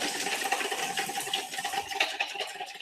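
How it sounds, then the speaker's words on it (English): A whisk beats egg yolk with lemon juice in a bowl, giving a quick, continuous rattling clatter that stays close and steady for a few seconds without any voices. "we're going to whisk all of this together"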